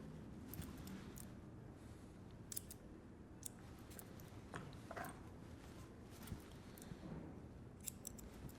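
Scissors snip through hair during a wolf cut mullet, a series of soft, crisp close-up cuts at irregular intervals over a quiet background.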